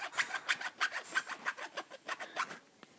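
A finger rubbing across a shiny textured Pokémon trading card, producing a quick series of about a dozen soft, close raspy strokes in steady rhythm, alone and faint.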